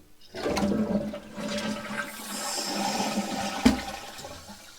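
A toilet flushes weakly with a rushing gurgle, then water keeps running and trickling as the tank slowly refills, taking very long, close and moderately loud.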